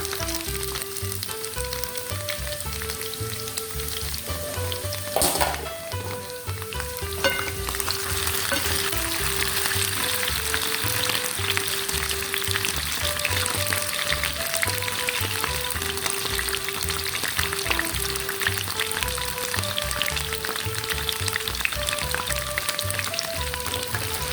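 Potatoes fry in a little oil in a covered pan, giving a steady, close sizzle that continues throughout beneath background music.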